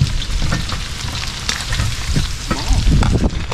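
Garlic sautéing in cooking oil, a loud, dense, continuous sizzle with crackling and occasional scraping of a spatula, close and without talk.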